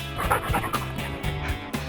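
A police sniffer dog works along a row of people, giving short snuffling sniffs and small whimpering noises in quick, uneven bursts, close and moderately loud, with no talking.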